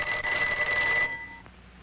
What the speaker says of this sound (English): Answer the phone, Luke.